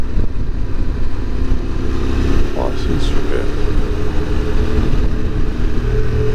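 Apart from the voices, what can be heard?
QJ SRT600SX motorcycle riding a mountain road in the Pyrenees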